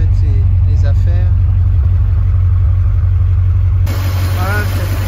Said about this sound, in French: cette Porsche V8, voilà, qui tourne bien